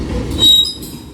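A Union Pacific manifest freight train rolls past a Central Avenue crossing, with a rumble of cars and a brief high wheel squeal rising mid-stretch before easing back to steady rolling noise.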